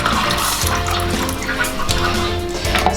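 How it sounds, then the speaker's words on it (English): Clean water pours and splashes steadily into a basin or sink while makeup brushes and a beauty sponge are rinsed, a continuous close running-water sound with no talking. "I'm pouring water, clean water here."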